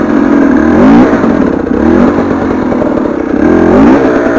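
A KTM 300 TPI two-stroke dirt bike revs hard while doing a burnout on a wet, slippery rear tire. The engine is loud and near, surging up and down in repeated pulses of high-revving snarl.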